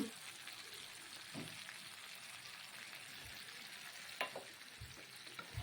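Spiced taro and potatoes sautéing in a pan with a splash of water, a steady soft sizzle with occasional scraping stirs, quiet and close, no talking.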